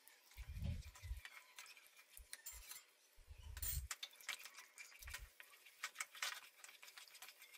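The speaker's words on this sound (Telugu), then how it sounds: "ఫుడ్ కలర్ ఒక పించ్ వేసుకుని గరిటతో బాగా తిప్పుకుంటూ ఉండాలి" A ladle stirs thick Bombay Karachi halwa in a pan after a pinch of food colour goes in, making soft, uneven scraping and sticky stirring strokes, fairly quiet and close, with no voices.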